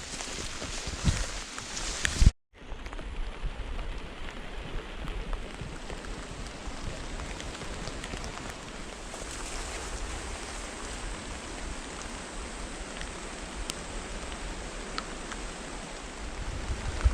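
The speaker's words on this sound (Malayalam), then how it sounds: "ഇവിടെ നല്ല മഴയാണ്" Steady rain hissing evenly throughout on the Valley of Flowers trek, with a brief gap near the start, then continuous soft patter.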